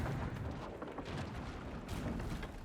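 Cannon fire in a game or virtual scene, a steady dense rumbling barrage of booms sustained at moderate level with no breaks and no voices.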